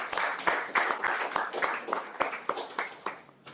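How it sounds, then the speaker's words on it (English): Applause from an audience for the co-event sponsors at a speech event, with fairly distinct hand claps landing in a loose, repeated rhythm and softening slightly toward the end. "Can we give them a big round of applause?"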